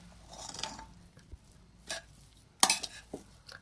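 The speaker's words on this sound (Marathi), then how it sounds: "तर हा सर्व भात आहे तो आता आपण मिक्स करून घेऊया" Cooked pavta rice is stirred and mixed in a pot, a few soft scrapes and one sharper clink of the spoon against metal between quiet pauses.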